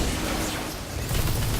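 Gunfire rattles in the Destiny 2 video game as the player takes hits from behind, a dense, steady burst of shots with muffled impacts filling the whole moment, no voices over it.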